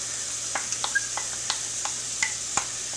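Hot oil sizzling steadily in a pan outdoors, ready for frying onion for a mustard-based grilling sauce, with a few sharp, scattered pops and crackles standing out over the hiss.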